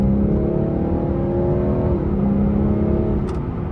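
BMW 640 xDrive in sport mode, its engine holding a loud, steady rev with a low droning growl that shifts pitch slightly midway, close and continuous with no talking.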